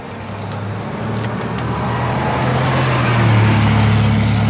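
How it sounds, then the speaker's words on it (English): A Scion/Toyota iM engine idling then rising in revs through a DNA Motoring catback exhaust, a steady close drone that grows gradually louder and higher with no talking. "Get in the car and rev it."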